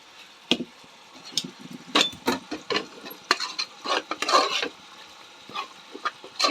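Tripe (boti) with cooked gongura leaves being stirred in a pan on the stove, with repeated scraping, stirring strokes and a faint sizzle, fairly close and with no voices.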